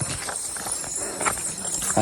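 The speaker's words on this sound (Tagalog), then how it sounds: "biglang tatayo po yung kabayo na sinasakyan ko" A ridden horse on a trip in South Cotabato clip-clops along in a steady walking rhythm of hoof strikes, close and moderately loud against a constant background hiss.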